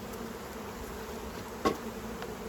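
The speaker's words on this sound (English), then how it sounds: "looking at bees on a nice sunny day" Honey bees buzz around beehives in a botanical garden on a sunny day, a constant low droning hum with one bee passing close by midway, no speech.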